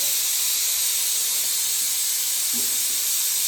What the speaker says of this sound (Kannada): ಮೊದಲಿಗೆ ಎಣ್ಣೆ ಹಾಕತ್ತಾ ಇದ್ದೀನಿ. ಸ್ವಲ್ಪ ಎಣ್ಣೆ ಹಾಕೊಂಡೆ